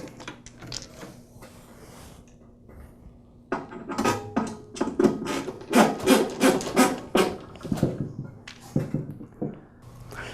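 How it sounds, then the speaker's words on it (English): Bolts on the detent plate of a DeWalt DW708 miter saw are tightened by hand, giving a quiet opening of faint scraping, then a denser run of close metallic clicks and rasping ratchet-like strokes. "Now I'll lock the 2 bolts on the outside edges of the detent plate."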